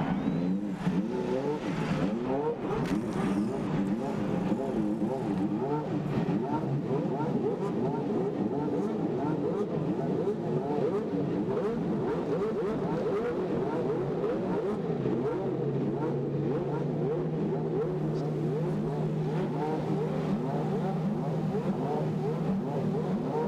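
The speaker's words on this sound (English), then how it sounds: "Engines are fired." IndyCar race car engines fire up and rev on the starting grid at Michigan International Speedway for the 1996 U.S. 500, a loud, continuous roar of many engines with rising and falling revs throughout, crowd and announcer voices blending underneath.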